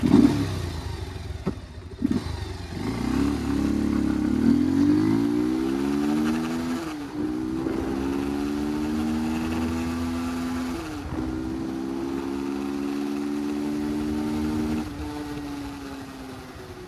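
An older Bajaj Pulsar 180 motorcycle revs hard and accelerates through first and second gears, its engine note climbing steadily with clear breaks at each shift, loud and close throughout.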